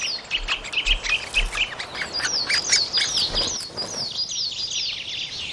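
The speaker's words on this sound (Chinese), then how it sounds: "在一棵枯死的山毛榉树干上，啄木鸟的雏鸟正在等待食物，它们好像总也吃不饱。" Woodpecker chicks inside a dead beech trunk call for food, a rapid run of high, insistent chirps and squeaks, close and loud, with a few soft thumps and rustles.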